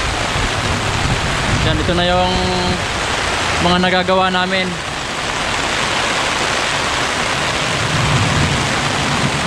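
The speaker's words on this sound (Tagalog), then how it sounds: "Saktong-sakto yung ulan." Steady rain pours over a row-house construction site where wall footings are being concreted, a dense continuous hiss filling the whole clip beneath a voice talking briefly.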